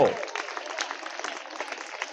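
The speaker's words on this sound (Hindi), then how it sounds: "ताली बजाओ और खूब खुश हो" An audience claps steadily throughout, a dense patter of many hands at moderate loudness with no pauses.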